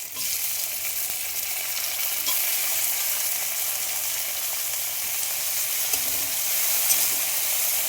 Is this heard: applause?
no